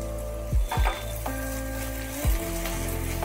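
Vegetables for upma sizzle steadily in a pan over a medium gas flame, broken by a few soft knocks and stirring sounds.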